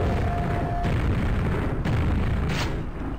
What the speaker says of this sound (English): he's gonna bounce a grenade down